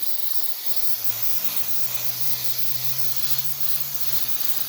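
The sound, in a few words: spraying a coat of glue for carpet pad in C10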